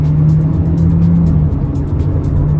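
A 2024 GMC Terrain SLT with a 9-speed automatic accelerating while already moving, heard from inside as a loud steady engine drone with road noise, rising slightly in pitch.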